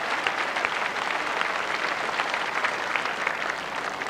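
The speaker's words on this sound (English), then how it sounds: "Applause for a successful firing shot in another rink" Sustained applause from a lawn bowls crowd at the 1984 World Singles Final, clapping steadily and evenly for about four seconds at a moderate distance, with no voices over it.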